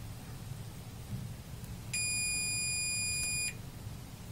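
A multimeter set to diode test on a shorted transistor from a Sony KV-8AD20 TV gives one sustained electronic beep of about a second and a half, clear over quiet room noise.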